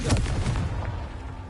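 A Confringo blasting spell goes off in a wizarding video game, a short booming burst with rumbling low-end decay over about a second and a half, fairly loud and close, with no talk over it.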